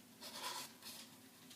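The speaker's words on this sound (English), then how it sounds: "I'm going to take my ribbon scissors and just slide it in between the cardboard and the ribbon" Ribbon scissors slide between cardboard and ribbon, giving a soft, faint papery scrape in two short strokes, close by and quiet, with no talking.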